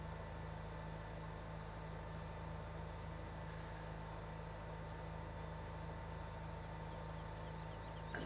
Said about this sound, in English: And this is definitely a big tractor.